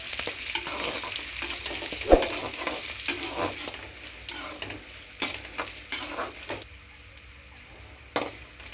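Green chillies, slit open, sizzle and fry in a pan over medium flame while being stirred, with steady crackling and scattered scraping clinks of the spoon against the pan, close and moderately loud.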